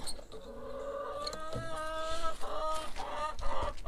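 A hen clucking inside a coop, a run of short, close, repeated clucks and murmuring calls that grow slightly louder toward the end, with faint background noise and no talking.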